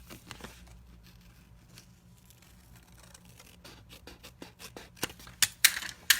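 Scissors trim card paper in a quiet room for a handmade greeting card, with faint snips and papery rustles that build into sharper, closer cuts and crinkles toward the end.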